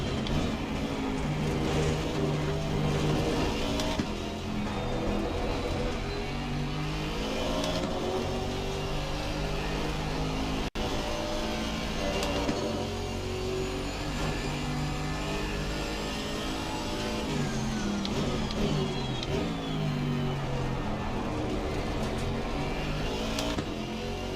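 Camaro and Porsche GT4 race car engines in Assetto Corsa Competizione at Zolder, a loud continuous drone with rising and falling revs and gear changes as the cars run close together.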